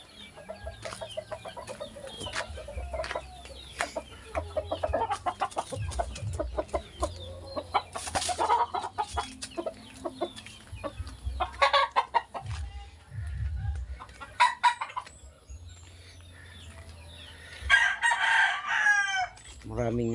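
Chickens kept at a rural Filipino home cluck repeatedly while a rooster crows several times, loud and close, in irregular bursts over a background of farmyard noise.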